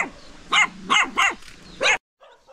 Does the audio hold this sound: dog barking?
yes